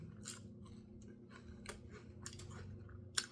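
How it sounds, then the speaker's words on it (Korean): Close, quiet crunching bites repeat irregularly, crisp snaps of someone chewing a crunchy matcha and chocolate cookie, with a sharper crack near the end. "바삭바삭하네요"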